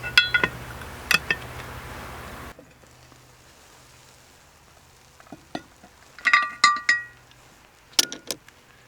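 A heavy cast iron lid comes off a Dutch oven of apple hatch chili cobbler, giving a few sharp metallic clinks and scrapes in short bursts, separated by quiet.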